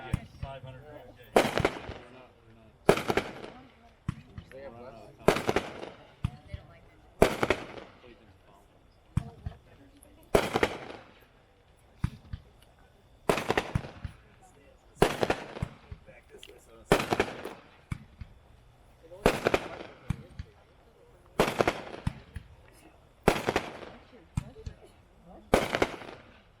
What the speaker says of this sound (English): Next up, item number 17, Merica's Pastime. This is a 63 shot, 3-1 pack, 500 gram cake.